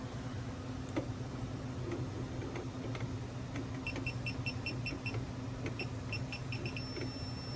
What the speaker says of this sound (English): what you're looking for is that continuous beeping there.